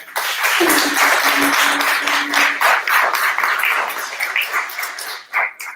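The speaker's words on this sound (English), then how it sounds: "Give yourself a clap." A live audience of business owners in Atlanta claps and applauds, a dense, steady patter of many hands that gradually thins out and tapers toward the end.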